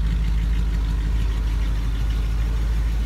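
A 1959 Cadillac Coupe DeVille engine idles close up in a steady, deep, even rumble that stays constant and uninterrupted throughout, with no voices.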